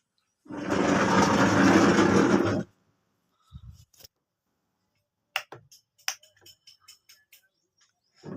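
Sewing machine stitching the collar onto a blouse, a steady loud whirring run of about two seconds, followed by quiet clicks and small handling taps.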